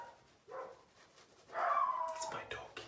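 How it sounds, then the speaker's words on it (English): A dog barks and yips in short bursts, fairly close, with a brief whimpering quality, while a person talks around the sounds. "It's my dog."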